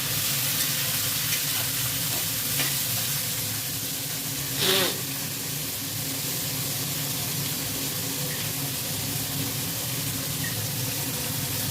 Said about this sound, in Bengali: পেঁয়াজটা ছেড়ে দেওয়া হলো, পেঁয়াজটা একটু ভাজা ভাজা হয়ে গেলে তারপরে